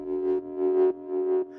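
A synthesized bass tone for a minimal drum and bass track, low end cut and run through a dotted quarter-note echo, sounds in three sustained pulses with repeats trailing between them, clean and alone.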